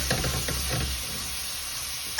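Beef sizzles hard in a hot pan with ginger and spring onion for a Chinese takeaway-style dish, a steady close hiss with stirring scrapes and a sharp click near the end.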